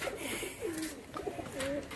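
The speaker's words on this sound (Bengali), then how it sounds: "মাছরাঙা টাইপের যে সমস্ত বাজির পায়রা হয়" Fancy flying pigeons of the kingfisher-type breed coo in several soft, wavering calls, faint and close in a quiet space, with no talking.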